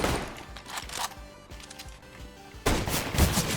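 Rapid bursts of video game gunfire crack close and loud, with a dense volley at the start, a quieter patch in the middle, then a heavy, sustained burst toward the end.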